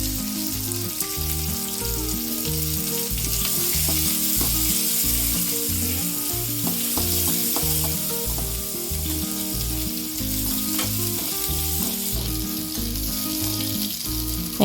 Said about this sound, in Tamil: எண்ணெயில் பொரிஞ்ச உடனே பாதி சின்ன வெங்காயம், பாதி பூண்டு வதங்கட்டும்